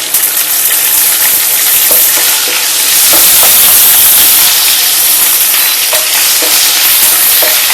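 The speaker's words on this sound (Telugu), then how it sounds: "వీటిని బాగా ఫ్రై చేయాలి." Dried red chillies, green chillies and curry leaves fry in hot oil with a loud, dense, continuous sizzle and hiss, close by, with faint scraping of stirring and no voices.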